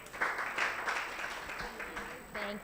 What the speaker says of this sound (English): A hand of applause, ladies and gentlemen.